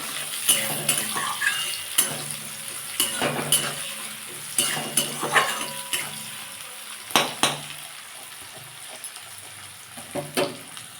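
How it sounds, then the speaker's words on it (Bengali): Garlic and onion frying in a pan, a soft sizzle beneath repeated sharp clinks and scrapes of a utensil stirring against the pan, with no talk. "এবার রসুন পেঁয়াজটা একটু হালকা ভেজে নেবো লাল লাল করে"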